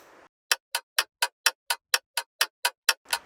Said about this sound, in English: a clock sound